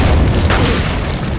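A grenade explodes in Resident Evil 4 with a loud, close, heavy boom that sustains into a rumbling roar.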